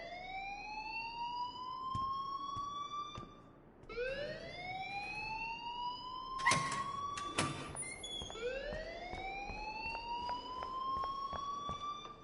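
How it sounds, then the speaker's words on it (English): A repeating rising electronic siren-style alarm sounds in a school building in the video game Life is Strange, sweeping upward in three long cycles with a brief pause and some clattering noise between them. "please turn off that alarm since that's your job"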